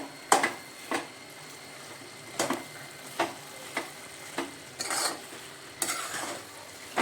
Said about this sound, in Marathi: आपण आता त्याच्यामध्ये टाकूया वेलची पावडर मिक्स करूया